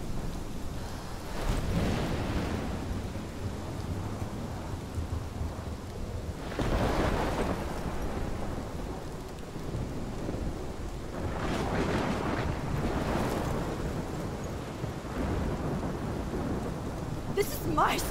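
Heavy thunderstorm in Life Is Strange, steady loud rain pouring throughout with several deep rolling thunder rumbles swelling and fading, no voices.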